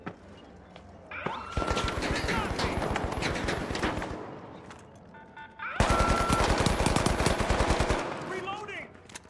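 Automated turret fire in The Finals, two long rapid bursts of close, loud gunfire, each lasting a few seconds, separated by a short lull with faint background game noise.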